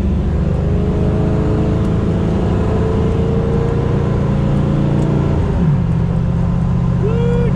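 A 1969 Camaro cruising at highway speed, its engine drone and road rumble steady and loud from inside the cabin, with a brief shift in engine pitch near the end.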